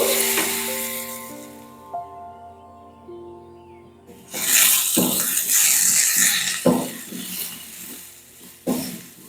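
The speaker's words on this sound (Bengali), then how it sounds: "ঘিটা গরম হয়ে গেলে ফ্লেমটাকে একদম কমিয়ে দেব এর মধ্যে ফোড়ন দিয়ে দেব সামান্য একটু গোটা চিড়ে এর মধ্যে দিয়ে দিচ্ছি আলু" Flattened rice and potato pieces hit hot ghee with tempering spices over a low flame, starting a loud, crackling sizzle after a stretch of soft tonal music, with sharp bursts as more goes into the pan.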